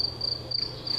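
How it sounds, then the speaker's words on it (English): Video game crickets in We Are What We Behold chirp in short, repeated high trills over a soft steady background hum, fairly quiet and with no talking. "that's way too many crickets"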